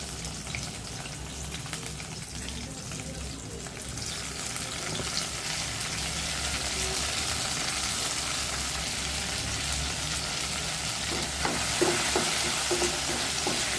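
Sambar onions sauté in a pan with a steady, fairly loud sizzle and frying hiss, with occasional stirring scrapes near the end and no talking.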